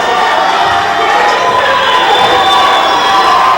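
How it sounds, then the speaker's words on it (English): A crowd at a high school basketball game cheers and shouts in a loud, continuous roar, with whoops and young voices rising over the din. "Now you hear the crowd starting to get into it"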